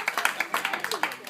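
Small group of people clapping together at a volleyball team gathering, a quick run of about a dozen claps, close and moderately loud.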